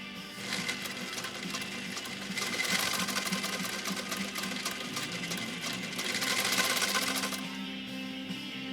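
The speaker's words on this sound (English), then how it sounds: "I'm gonna try to sew as straight as I can" A restored 1923 Singer 66-1 sewing machine stitches in a steady, rapid mechanical whir with a fine clatter, speeding up in two stronger bursts before settling back.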